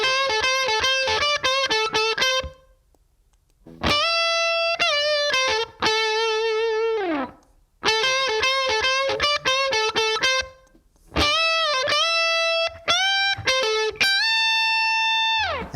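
Overdriven electric guitar plays the lick leading into the solo: loud, close phrases of quick picked notes and bends in a minor pentatonic shape, repeated with short pauses between.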